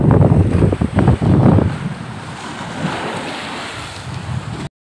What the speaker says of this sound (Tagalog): Yan po mga tabing baybay dagat.